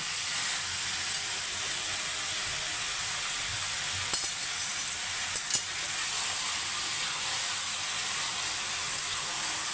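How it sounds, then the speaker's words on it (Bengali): Chicken frying in a pan, with a steady hissing sizzle throughout and a couple of brief clinks midway, close and even in level. "চিকেনটা একটু কালার চেঞ্জ হওয়া পর্যন্ত আমি রান্না করব।"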